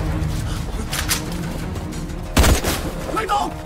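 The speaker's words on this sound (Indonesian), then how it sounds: "Gesang sudah menemukan mereka terlebih dahulu dan langsung menembak Liu Wei" Gunshots in an action film scene, a sharp loud burst near the middle over a dense, busy soundtrack of rumbling and ambient noise.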